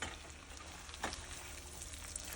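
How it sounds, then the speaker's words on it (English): Onion with salt sizzling steadily in a hot pan while being stirred, a continuous quiet frying hiss with a brief scrape partway through, no talking. "And now we are going to add our onion. We're gonna add salt, cada quien. Now you mix,"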